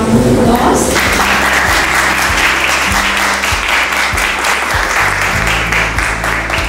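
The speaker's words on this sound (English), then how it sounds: "I think we should give them a big round of applause." An audience at a capstone robotics event breaks into loud, sustained applause, dense clapping that fills the whole stretch with a voice briefly audible beneath at the start.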